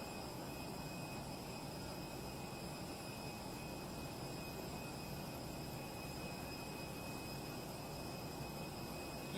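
Steady broadband roar of an airplane standing by to carry the Senegalese president on an official visit to Guinea, a constant engine drone with a thin high whine held throughout, loud and unbroken, with no talk.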